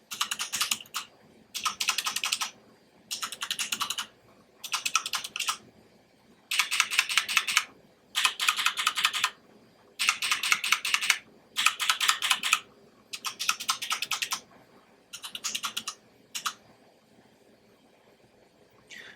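Typing on a mechanical keyboard fitted with dampened ABS keycaps comes in about a dozen close, clacking bursts of rapid keystrokes, each a second or so long, separated by short silent pauses.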